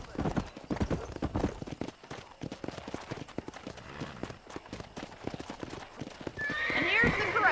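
Horse hooves clip-clop steadily at a ranch corral in the video game Red Dead Redemption, with a horse neighing and whinnying loudly near the end, heard alongside talk.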